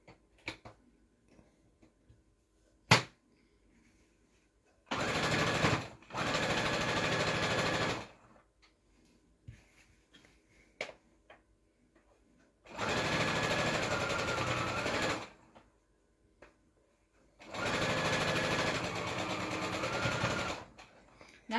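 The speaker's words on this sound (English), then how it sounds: "Let's get this sewn." Domestic sewing machine stitching a Halloween quilt, running in three steady bursts of a few seconds each, separated by quiet pauses with faint handling clicks and a sharp tap; close and fairly loud, no talking.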